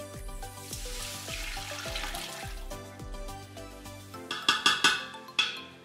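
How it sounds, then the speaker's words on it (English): Soy sauce pours into an Instant Pot, a short liquid trickle and splash, with a few clinks and knocks near the end, close and fairly quiet. "and now we're gonna add the sauce."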